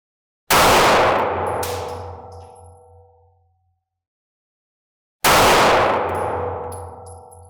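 Two loud 9mm handgun shots fired at a target several seconds apart, each a sharp crack followed by a long ringing decay.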